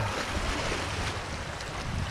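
Choppy ocean water sloshes and churns against shoreline rocks with a steady, close wash and gusty wind noise buffeting the microphone.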